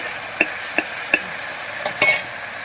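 A spoon taps and scrapes a pot several times while ginger and cumin paste is stirred into a fish curry with cucumber. The sharp, spaced knocks sit over a soft steady hiss, and no one speaks.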